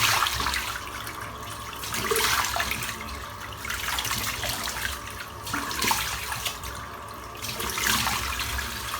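A sink tap runs steadily with cold water, a constant close hiss and splash throughout, with no talking.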